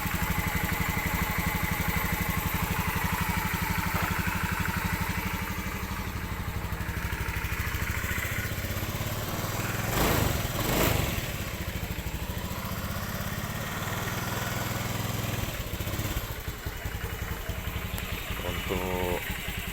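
A motorcycle engine fitted with a hall-sensor TPS fires right up on the starter and keeps running with a steady, continuous drone, with a brief louder burst midway and a voice talking over it.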